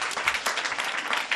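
Children in a French classroom clap for a classmate, a short, close burst of quick uneven claps lasting just over a second.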